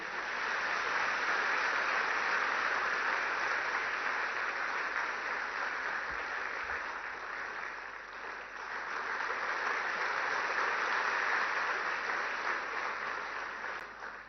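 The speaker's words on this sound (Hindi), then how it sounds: "कृपया जोरदार तालियां बजाते रहें।" A large crowd at a welcome ceremony for Prime Minister Narendra Modi in Varanasi applauds in a steady, dense wash of clapping that holds for the whole stretch, dipping slightly midway before swelling again.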